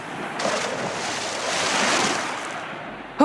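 Sea waves surge and wash in a Peter Pan storybook scene, a continuous rolling roar with wind-like hiss that swells mid-way and then eases, ending in a sharp knock.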